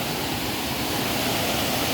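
A waterfall pours in a constant, dense roar of rushing water, loud and close, with no breaks or voices over it.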